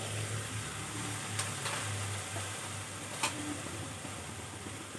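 Spice masala being fried and stirred in a pan for a green pea ghugni, a faint, steady sizzle with a couple of sharp clicks of the spoon against the pan.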